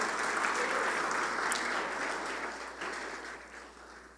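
A church congregation applauds during a Portuguese sermon, a broad, even wash of many hands clapping that holds steady and then slowly fades.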